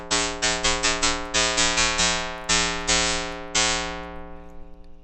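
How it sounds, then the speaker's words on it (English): A hollow, square-edged synth tone from Ableton's Spectral Resonator effect is plucked in a quick rhythmic series of bright notes, then a final note rings out and fades. "So this gives you a sort of square,"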